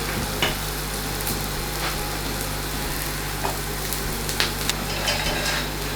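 Garlic frying in a pan gives a steady, close hiss of sizzling, with a few faint clicks and pops over a constant low kitchen hum, no voices.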